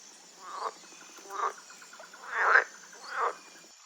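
Four separate croaks from a cartoon frog, evenly spaced over a few seconds, each a short raspy burst, clear and alone over a faint steady hiss.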